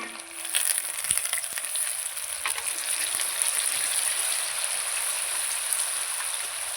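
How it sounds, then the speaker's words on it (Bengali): Ground cumin-ginger paste goes into hot oil in a pan for a katla fish curry with kohlrabi: a continuous, close, rain-like sizzle with faint crackles, fairly loud and unbroken throughout. "এই বাটির মধ্যে জিরে আদা বেটে রেখেছিলাম এটা দিয়ে দিচ্ছি"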